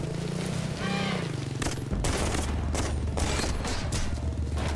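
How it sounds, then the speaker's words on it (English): A video game machine gun nest fires a sustained stream of rapid shots over a heavy, loud background rumble, with bursts and booms through most of the clip. "maybe we have to deal with this machine gun nest"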